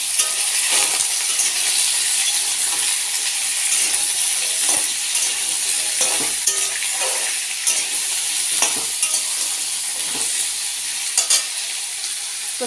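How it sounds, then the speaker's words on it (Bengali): Potatoes frying in mustard oil in a pan, giving a steady close sizzle and hiss with scattered clicks and scrapes from stirring throughout, and no talking. "তো চলো, ততক্ষণে আলুটা একটু ভাজা হতে থাকুক"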